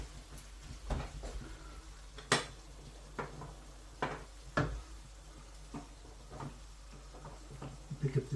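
A chicken stir-fry being stirred in a pan, giving quiet, scattered clinks and scrapes of a utensil against the metal at an uneven rhythm, with soft talk in places.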